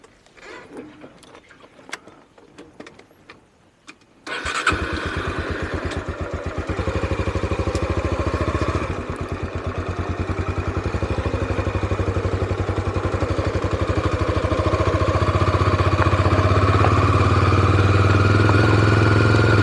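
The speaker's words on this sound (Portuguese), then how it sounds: "Vamos de novo a montar na moto." A motorcycle idles after some quiet clicks and handling noises. The engine catches abruptly and settles into a loud, steady, close-up putter that keeps going to the end.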